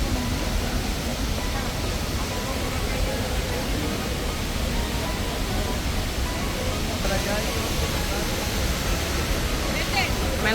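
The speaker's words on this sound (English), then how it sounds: "And this is what we came to see. Waterfall La Fortuna." La Fortuna waterfall in Costa Rica roars as a loud, unbroken broadband rush of falling water, steady throughout with no pauses.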